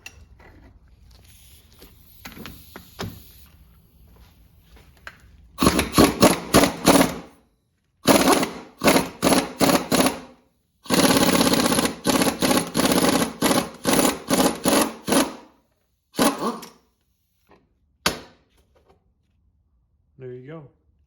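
A 3-jaw puller is pulling a part off the transfer case of a BMW E30 325ix, with loud, rapid mechanical rattling bursts coming in several runs of a second or two, separated by short pauses, up close with no talk.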